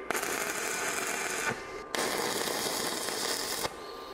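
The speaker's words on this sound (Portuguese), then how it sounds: "eu vou soldar um pedaço de barra chata de 3/4 por 3/16" A flat steel bar, 3/4 by 3/16 inch, is welded to serve as a jig, giving a steady crackling, sizzling hiss in three bursts split by brief pauses, fairly faint and without talk.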